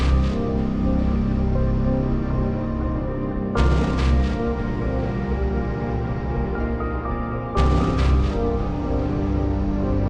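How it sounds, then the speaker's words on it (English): Soundiron Sonespheres Limitless synth patch playing big, full sustained pads layered with strings and drums, loud and continuous, with two heavy swelling hits about four seconds apart and no voices. "I'll play you through just the Sonespheres sound so you can hear just what"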